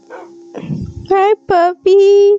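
A puppy gives three loud, high-pitched, drawn-out yaps close by, after a moment of soft shuffling noise.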